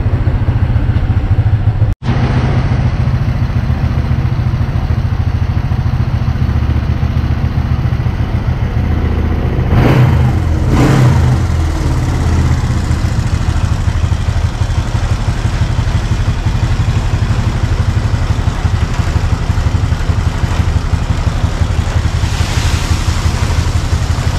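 A modified Honda Wave 125 motorcycle engine with 57mm bore runs loudly and continuously, with a couple of brief revs rising above the steady rumble.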